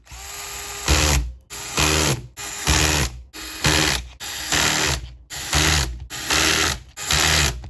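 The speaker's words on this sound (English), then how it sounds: "So go get all your screws in, tighten them all the way up." Screws being driven and tightened on a Tron 5.5 Orion drone frame, eight repeated bursts of whirring mechanical buzz, each about half a second long with short pauses between, loud and close with no talking.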